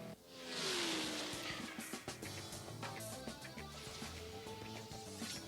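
A car in the racing game CSR Classic accelerates hard, its engine climbing in pitch through quick gear changes over a sustained synthetic roar, with tire squeal mixed in at steady, moderate volume.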